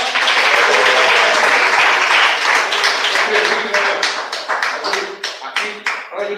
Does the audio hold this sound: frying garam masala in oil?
no